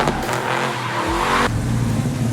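A Ford GT sports car drives close by, its engine note rising and shifting through a quick gear change midway, loud and rough with tire noise mixed in.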